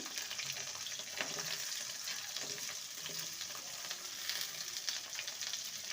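Chopped taro, radish and potato hit hot oil in a pan for a vegetarian spinach dish, giving a steady, close, loud sizzle and frying hiss with light stirring scrapes throughout, no talk.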